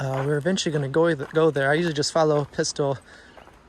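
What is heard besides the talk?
None of the usual background noises is heard.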